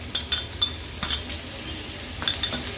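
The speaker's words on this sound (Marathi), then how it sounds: "आलं लसूण क्रश तेलावर घातल्यावर आपण हा बारीक चिरलेला कांदा आहे तो ऍड करणार आहोत" Finely chopped onion fries in oil with crushed ginger and garlic, a brief close sizzle broken by a few light utensil taps and stirs.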